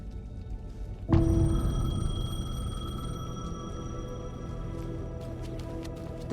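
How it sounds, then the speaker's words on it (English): In the video game Alan Wake 2, a payphone starts ringing about a second in, a sustained electronic ring over low ambient rumble and murmuring background, continuing steadily at moderate loudness for several seconds. "The payphone was ringing."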